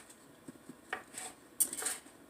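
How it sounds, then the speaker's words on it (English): A knife chops green onion on a cutting board, giving a few light, irregular taps and clicks with a brighter scrape near the end, close up and quiet, with no talking. "So I'm going to cut up some of my green onion to put in here too."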